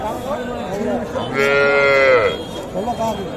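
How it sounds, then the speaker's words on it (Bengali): A young bull calf at a cattle market gives one loud, drawn-out moo close by, with people talking before and after it. "এই দেখছেন, এই আড়িয়া বাচ্চা, মানে ষাঁড় বাচ্চা।"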